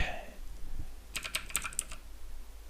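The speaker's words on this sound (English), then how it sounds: "I'm just going to type in" Keys on a computer keyboard are struck in a quick run of about half a dozen close, crisp taps, with no talking.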